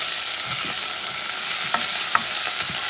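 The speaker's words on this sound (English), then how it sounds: "What I'm doing with the garlic, mixing things up together a little bit." Garlic stirred and frying in a pan for a shrimp and chickpea soup, a steady close sizzle with soft scraping stir strokes and a couple of brief clinks, no talking.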